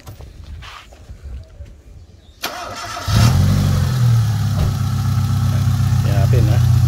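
A Mitsubishi Lancer engine, just fitted with a new ignition coil and high-tension wire, cranks briefly and catches, then settles into a loud, steady idle close to the listener after quieter background noise.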